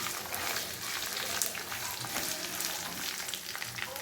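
Chopped capsicum frying in a pan with carrot, ginger and garlic for a beef chilli dish, a steady close hiss of sizzling oil with occasional crackles throughout.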